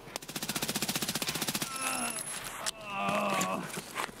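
Rapid automatic gunfire from a weapon in Escape from Tarkov, a steady burst of evenly spaced shots for about a second and a half, then game movement and ambient noise.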